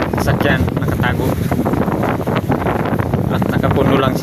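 Strong wind with rain on Mangsi Island during the northeast monsoon, a loud gusty buffeting roar close to the microphone, mixed with someone speaking.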